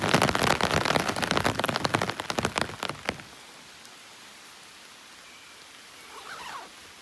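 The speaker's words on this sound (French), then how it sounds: "On peut entendre nos gouttes là." Rain drops pattering on an umbrella, a dense crackling patter for about three seconds that then thins out to a faint hiss, with a brief soft rustle near the end.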